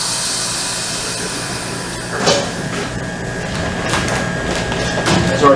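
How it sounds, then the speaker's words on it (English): Vacuum packing machine sealing pig cheeks in a butchery: a steady mechanical hum and whir, with brief sharp hissing bursts from the pump and seal, moderately loud and close, with no talking. "So our pig cheeks now are vacuum packed."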